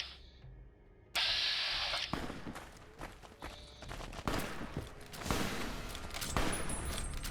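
Gunfire in the Fallout New California game: scattered shots and bursts amid footsteps and general combat noise, starting after a brief quiet lead-in and continuing irregularly at moderate loudness.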